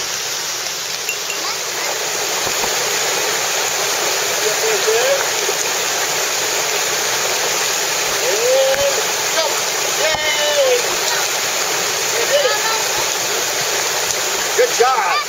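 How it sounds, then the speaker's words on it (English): Nameless Waterfall beside a hiking trail in Japan gives off a steady, dense rush of falling water that never lets up, with a voice speaking briefly over it. "It's hard to believe this is a trail, huh, sweetie? But there is, and there's a waterfall up here."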